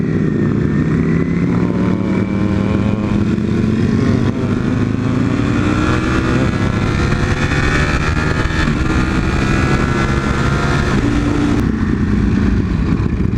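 A group of Harley-Davidson motorcycles rides together on the road, engines droning loud and close with rising and falling revs, wind rushing over the bike throughout.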